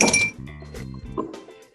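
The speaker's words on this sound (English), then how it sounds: "A couple ice cubes." A couple of ice cubes dropped into an old-fashioned rocks glass while mixing a Gold Rush cocktail: a sharp glassy clink followed by a few lighter rattling knocks, close and brief.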